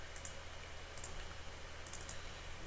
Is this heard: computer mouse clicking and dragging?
yes